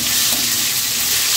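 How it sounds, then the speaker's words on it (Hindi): Boiled potatoes and softened tomato frying on high flame for sabudana khichdi, giving a loud, dense, continuous sizzle close up with a faint stirring texture and no voices. "इसे भी हाई फ्लेम पे फ्राई करूँगा"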